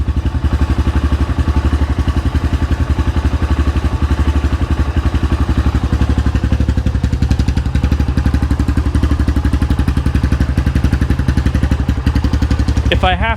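A dirt bike engine idles steadily and loudly up close, a constant low-pitched throb with mechanical clatter throughout, ending in a brief higher sweep.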